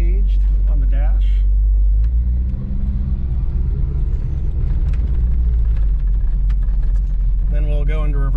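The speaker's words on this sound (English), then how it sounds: "Then we'll go into reverse here. You heard it engage." A 4WD vehicle shifts into reverse over a loud, constant low engine rumble with faint clunks from the gear engaging, and someone talks at the start and end.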